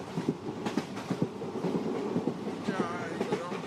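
Rhythmic clatter of a passenger train in motion, wheels knocking over rail joints in steady repeating beats at moderate level, with a brief high squeal of wheels late on.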